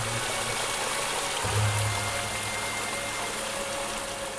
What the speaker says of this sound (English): It is the movement of the water, it is the sound of the water, it is the creek, the rocks that contain the water.